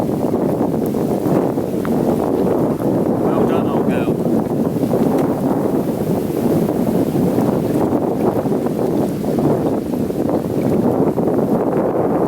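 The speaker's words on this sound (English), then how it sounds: "welcome to a very rough and windy night at Welly" Strong, steady wind roars and buffets the microphone throughout on a rough night at Wellington Country Park lake in October, a dense rumbling rush with no break and no voices.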